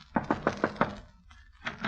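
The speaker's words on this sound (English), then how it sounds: "I shall knock on the door." Knocking on a door as an old-time radio sound effect: five quick, evenly spaced knocks close up, followed by a brief pause and some soft background voices or noise.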